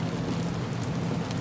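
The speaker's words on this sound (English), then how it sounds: "while the rain hits the windows of the vehicle hard" Heavy rain pelts the windows of a long-distance bus on a windy night, a dense, steady roar of drops at close range with no pause.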